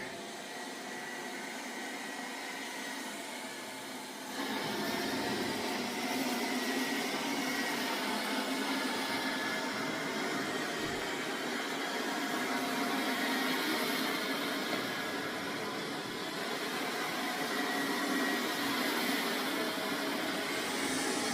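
Samsung Bespoke Jet Bot Combo robot vacuum working its way across a rug, giving a steady broadband whirring drone that gets louder after a few seconds and then holds even and close, with no talk.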